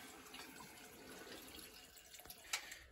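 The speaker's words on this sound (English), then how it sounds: "So as the heater's draining out, we'll cut the supply lines." Water drains steadily out of an electric water heater that has run on well water for 20 years, a soft continuous trickle and gurgle with a brief splashy burst near the end, fairly faint and without talk.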